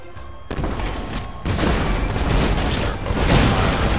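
Massed musket volleys from gunner units in Shogun 2: Total War crackle in a dense, continuous battle din, swelling louder after a quiet opening and rolling on without a break.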